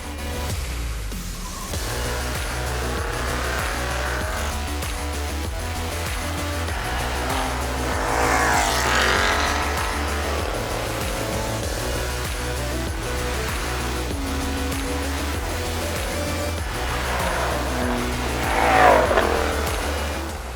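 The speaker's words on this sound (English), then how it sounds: "the BMW shot off the line with the perfect launch using launch control, while the Mustang with all its extra horsepower struggled to put the power down" A 525 hp turbocharged BMW M3 and a 650 hp supercharged Ford Mustang launch side by side in a drag race, a loud, continuous engine roar rising in pitch with a swell of revving near the end.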